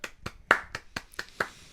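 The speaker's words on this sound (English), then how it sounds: "Everyone give him a clap." A small podcast audience claps for a departing guest, with sparse, uneven handclaps spaced through a brief burst, close and fairly quiet with no talk over them.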